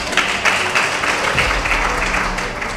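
A crowd at a political speech claps loudly and at length, a thick wash of hand claps with rhythmic surges.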